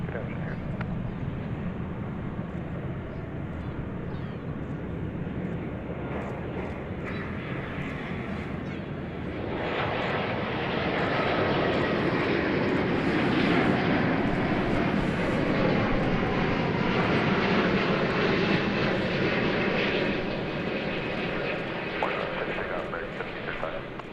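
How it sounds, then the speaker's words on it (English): Airliner passing at DFW Airport, a broad steady engine roar that swells louder about halfway through and holds, with talk over it. "That is a long aircraft."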